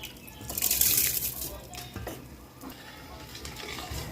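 Sticky rice stirred into a sweetened coconut milk mixture in a pot, wet sloshing and scraping that swells early and then settles into quieter, uneven stirring, with no talk.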